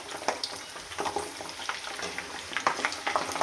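Garlic fries in hot oil over a high gas flame with a crackling sizzle, broken by intermittent scraping and stirring taps, close and fairly quiet.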